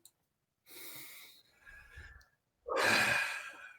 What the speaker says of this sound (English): Take a deep breath, man.